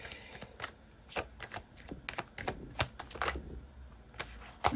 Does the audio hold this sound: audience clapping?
no